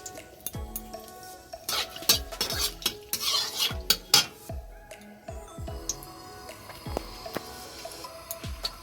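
Bay leaf and dried red chili hit hot oil in a pan after paneer has been fried, giving a close sizzle punctuated by repeated sharp metallic clinks and scrapes of a spatula stirring.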